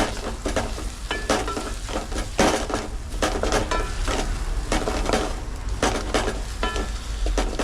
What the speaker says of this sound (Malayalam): അടി ചെറുതായിട്ട് കരിഞ്ഞിട്ടുണ്ട് നമുക്കൊന്ന് കുത്തി ഇളക്കിയെടുക്കാം